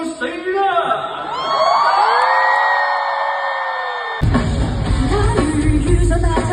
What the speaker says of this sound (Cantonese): 一齊用你哋最大嘅歡呼聲，叫佢哋出嚟受死啦